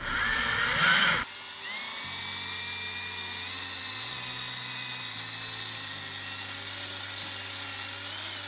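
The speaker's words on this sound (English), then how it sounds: "if you don't have one of these mixers, I highly recommend you get yourself one of them" A drill-driven paint mixer whirs steadily while blending paint in a can, a continuous motor whine with some louder clatter in the first second before settling into an even hum, alone with no talk.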